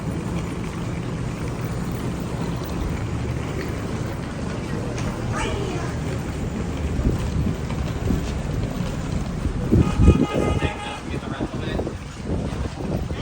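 A motorized outrigger boat (bangka) drones steadily over water near Boracay, Philippines, with wind buffeting the microphone and people talking nearby.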